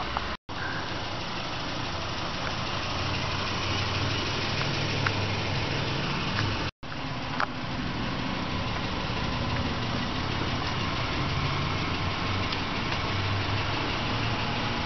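A 2009 Subaru Forester engine idles steadily just after start-up, a constant low mechanical hum and rumble heard close with no talking over it.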